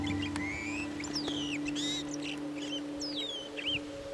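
Several birds call and chirp in short, scattered bursts over a steady low hum, some notes rising and falling, fairly close.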